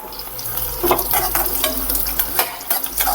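Onion frying in hot oil, a steady loud sizzle broken by repeated scraping stirs of a spoon against the pan, with no voices over it.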